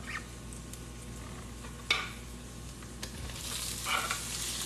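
Sausage fries in a pan with a soft, even sizzle, broken by a few sharp clinks and scrapes of a utensil, heard close but at a modest level.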